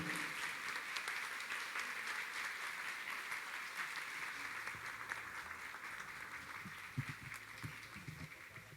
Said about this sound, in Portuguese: o saúdam com uma calorosa salva de palmas em aclamação à posse ora homologada